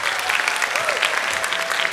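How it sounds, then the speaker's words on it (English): A crowd claps continuously in a dense, steady burst of applause that fills the whole moment, at a high school comedy hypnosis show. "give them a nice big round of applause"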